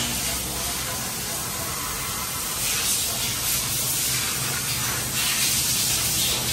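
Spray cleaner hisses steadily onto the AC evaporator of a Toyota Fortuner whose air conditioning went unserviced for 13 years, a continuous close-up jet that swells in bursts, with faint voices underneath.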